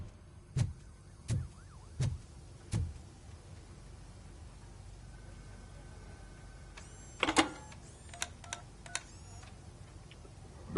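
Telephone keypad tones in RoboCop Rogue City: several evenly spaced low beeps, a pause, then a quick run of higher dial tones and electronic chirps, clear and close against a quiet background.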